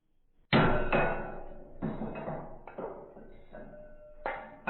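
A metal punch struck with a hammer against a pin in a black powder revolver, about six sharp ringing impacts at uneven intervals with short metallic decays, close and alone.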